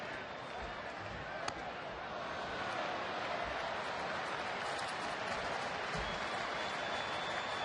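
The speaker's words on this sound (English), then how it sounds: "They're cheering his foul balls in there." Baseball crowd at a Braves versus Phillies game in May 2010, cheering foul balls; a broad, steady stadium roar with scattered shouts and claps, fairly distant and even.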